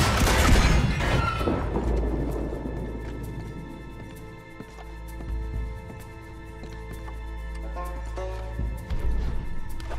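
Dynamite goes off in Red Dead Redemption 2 with a loud opening boom, followed by a long rumbling decay and scattered crackling debris and ringing tones that fade over ten seconds.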